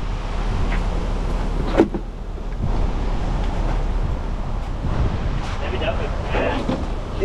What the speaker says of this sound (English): It's not raining, it's just very dark and windy.